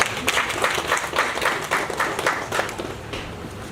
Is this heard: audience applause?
yes